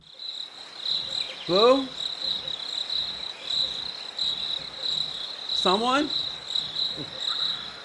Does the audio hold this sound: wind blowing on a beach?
no